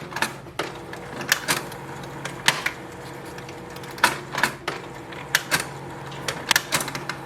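The paper roller of a Canon Pixma G4270 inkjet printer turns during automatic cleaning, a mechanical whir broken by a run of irregular clacks and clicks up close.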